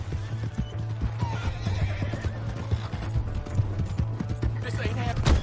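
A horse in the Western video game Red Dead Redemption 2 whinnies close by while its hooves clip-clop in a quick steady gallop, with voices talking over it.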